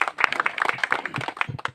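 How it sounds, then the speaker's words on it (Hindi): Villagers at a Bank of Baroda event in a village panchayat clap in a short, close burst: uneven, individual claps from a modest crowd, loud and choppy, briefly trailing off. "एक बार जोर तालियां हो जाए"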